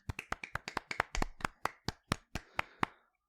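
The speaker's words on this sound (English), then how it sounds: "let's get a round of applause" Sharp, evenly spaced claps, about fourteen in a quick steady rhythm that slows slightly toward the end, close and fairly quiet, with no voices.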